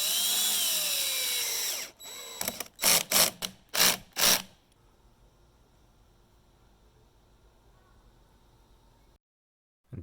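A power drill bores anchor holes for a pergola shade-sail canopy in several short, loud bursts, each about a third of a second long and spaced irregularly. A steady hissing noise comes before the bursts, and faint background hum follows them.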